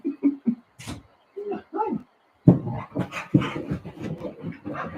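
A female dog gives short yips and whimpery barks on command at close range, interleaved with a voice giving her cues and praise.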